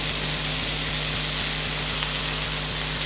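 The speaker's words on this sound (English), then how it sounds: "I'll add my garlic and ginger." Garlic and ginger sizzle loudly and steadily in a hot frying pan alongside spring onions and chili, a dense close-up frying hiss over a faint rhythmic low hum.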